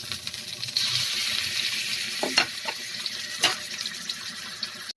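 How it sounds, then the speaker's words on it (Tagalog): Chicken fat sizzles steadily in a pan for tinola made with native chicken, with a continuous crackling hiss, a few sharper clinks and stirring knocks partway through, and no talk. "Prito po muna natin yung taba ng manok."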